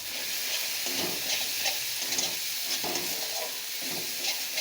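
Spices with Kashmiri chilli powder sauté in a hot pan, a continuous close sizzle broken by repeated scraping stirs at a steady, unhurried pace, with no voices.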